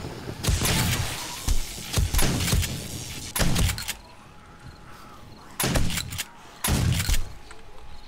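A shotgun fires in 7 Days to Die with the Darkness Falls mod, several loud, booming blasts spaced irregularly, each with a short ringing tail and quieter gaps between.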